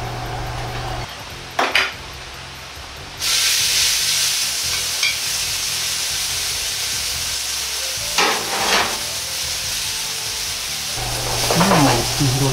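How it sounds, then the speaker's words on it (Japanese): Yakisoba noodles fry in a hot oiled pan for a spicy minced meat and cabbage dish, a steady close sizzle that jumps louder after a few seconds, with occasional clinks and scrapes of utensils against the pan. "焼きそばを焼いていきます"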